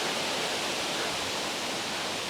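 Steady broadband rush of a waterfall on Monk's Trail in Chiang Mai, Thailand, heard as an even, moderately loud hiss of falling water with no voices.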